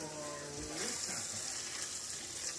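Water pours into a pan of seasoned taco meat, a short rushing splash that turns into a broad hissing sizzle, close and fairly loud with a faint voice briefly at the start.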